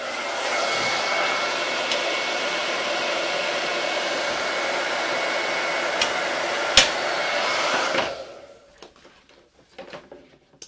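A handheld hair dryer blows steadily and loudly at close range while heating a reclaimed cupboard door piece, a faint click partway, then it cuts off near the end, leaving quieter handling noises.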